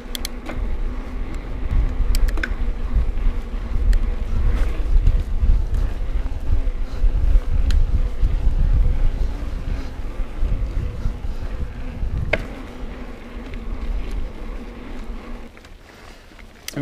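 Gusty wind buffets the microphone on a fall morning mountain bike ride at Galbraith Mountain in Bellingham, Washington, a loud continuous rushing roar that eases off toward the end.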